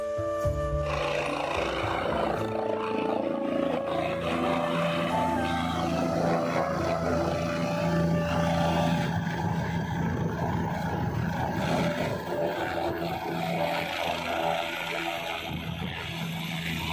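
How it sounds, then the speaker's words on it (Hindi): A helicopter arriving at the Kedarnath helipad from Sonprayag, a loud continuous rotor roar and engine drone filling the air at close range without a break. "तो हेलीकॉप्टर देख सकते हैं दोस्तों आप लोग। तो ये आ रहा है जो कि सोनप्रयाग से।"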